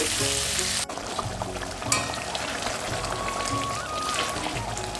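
Meat sizzles and sputters steadily as it is sautéed with spices in a home kitchen pan, a continuous crackling frying hiss with no voices over it.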